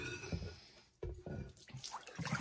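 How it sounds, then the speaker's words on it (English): Running tap water splashing into and rinsing out a large 40-ounce Stanley cup and its straw, a fairly close, uneven wash of water with a brief break partway through. "I always like to rinse out my cup and straw before I fill them"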